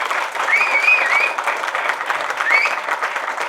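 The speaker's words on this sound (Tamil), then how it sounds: "அவங்களுக்கு கேட்கட்டும் நம்ம கரகோஷம் இன்னும் ஒரு தடவை அவங்களுக்காக" Steady, loud applause from an audience at an awards ceremony, dense clapping sustained throughout with a few faint whistles over it.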